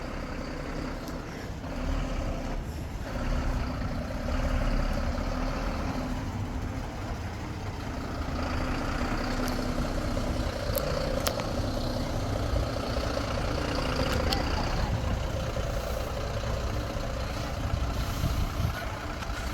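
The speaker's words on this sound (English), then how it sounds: "the truck is coming in that's carrying my laminate floors" A delivery truck carrying laminate flooring arrives at a rural South African farm, its engine a continuous loud low rumble and idle with a few faint clanks.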